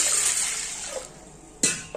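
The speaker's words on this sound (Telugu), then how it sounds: "కందిపప్పును వేసుకొని వాటర్ పోసుకొని" Water poured over toor dal in a pressure cooker pot, a loud rushing splash that gradually tapers off, followed by a brief second gush near the end.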